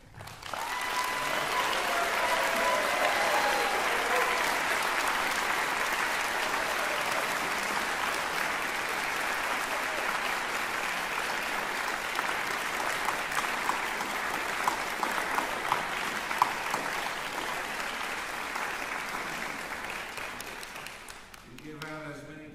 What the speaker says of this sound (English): Can everybody who is here stand up and we'll applaud you.